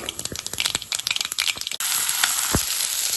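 Mustard seeds and urad dal spit and crackle in hot oil, rapid sharp pops for about two seconds before settling into a dense, loud sizzle at close range.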